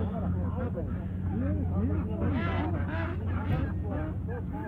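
Geese at an open-air poultry market in Uzynagash, Almaty region, honking repeatedly in overlapping calls, fairly close, over a steady low hum and the murmur of people talking nearby.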